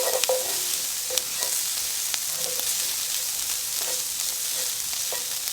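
Garlic and onion sizzling in a pan as they cook down for a keto shepherd's pie, an even, bright frying hiss with occasional soft taps of a utensil, close and uninterrupted.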